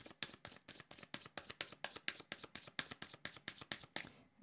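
A deck of tarot cards being shuffled by hand, quiet and close, with about twenty quick, evenly spaced papery slaps in a steady rhythm.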